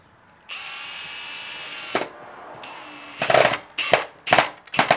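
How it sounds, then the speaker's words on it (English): A power drill bores a pilot hole through PVC, starting with a steady whine for a second and a half, pausing, resuming, then breaking into several short loud bursts as the bit bites, close up with no talk. "This drill bit sucks ass, but got the hole drilled."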